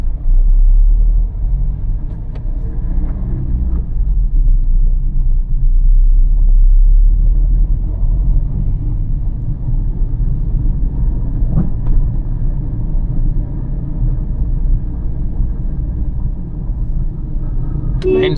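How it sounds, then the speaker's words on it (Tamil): A car creeps slowly in first gear up and over a speed breaker, a steady low engine and road rumble heard from inside the cabin for the whole stretch. "ஃபஸ்ட்டு கியர் போடுறேன், ஸ்லோவாக ஏறி இறங்குறேன்."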